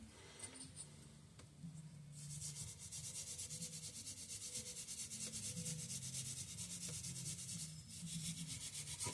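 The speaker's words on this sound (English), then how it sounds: "I'm going to scrub this side." Steady brush scrubbing on a Walbro impulse fuel pump from a Tecumseh HH120 engine, a continuous close rasping rub that runs without a break after a short quieter start, with no talk.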